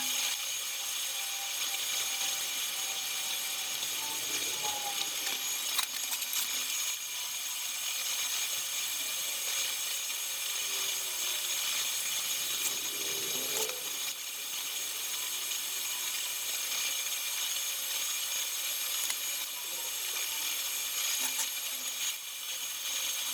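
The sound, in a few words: welding a stainless steel overhead fillet weld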